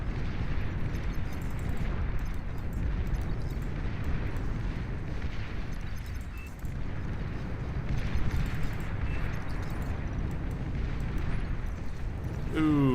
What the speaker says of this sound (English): Pure, unbridled napalm. Sticky, hot, and coming for you. It's napalm artillery.